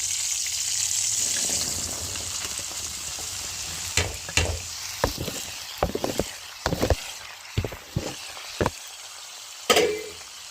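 Ivy gourd sizzles steadily in hot oil, with a series of sharp scraping and stirring clatters from a utensil against the pan.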